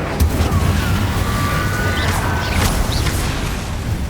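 An Incendio fire spell cast in Hogwarts Legacy, a loud whooshing roar with booming bursts and crackling, dense and continuous for a few seconds.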